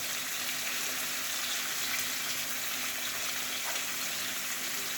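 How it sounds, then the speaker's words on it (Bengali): Onions frying along with pointed gourd (potol) give a steady, even sizzle that hisses without a break and without voices. "আমি একবারে পটলটার সঙ্গে পেঁয়াজটা ভেজে নিচ্ছি"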